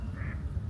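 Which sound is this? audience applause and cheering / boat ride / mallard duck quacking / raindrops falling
mallard duck quacking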